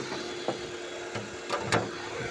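A car engine idles steadily at low revs, just before being revved up to the rev limiter, with a few soft knocks and clicks over a constant, fairly quiet mechanical drone.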